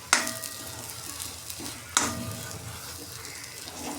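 Salt being stirred into fenugreek leaves frying in a pan for lasuni methi: a soft continuous sizzle broken by two sharp spoon scrapes against the pan, close and fairly quiet.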